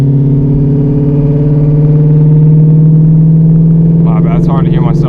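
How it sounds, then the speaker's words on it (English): An S650 Mustang GT with a dumped exhaust rumbles loud and low while driving, a steady droning growl that fills the whole clip, with a person talking over the engine near the end. "it's hard to hear myself talk with this damn dumped exhaust"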